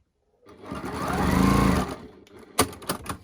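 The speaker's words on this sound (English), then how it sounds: "what we're going to do now is just stitch this together" A domestic sewing machine runs in one steady burst of about a second and a half, stitching fabric pieces for a pumpkin-shaped storage pod, then stops before a few sharp handling clicks follow.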